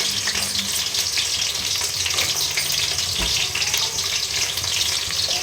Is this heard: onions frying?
yes